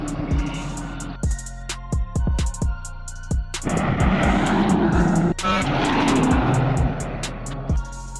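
A truck driving fast through mud, its loud engine revving and roaring close by, with sharp bursts at first and then a sustained, rough, churning drone.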